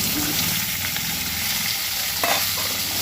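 Hog plums (ambade) fry in a hot tempering of oil and spices for Goan sasav, making a loud, dense, continuous sizzle with faint stirring scrapes and no talking.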